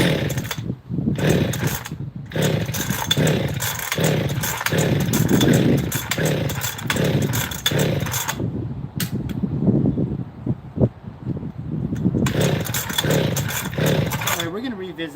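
A chainsaw, set with the choke off and the throttle lock on, runs loudly and raggedly in bursts, its engine revving up and bogging down with brief stalls and restarts.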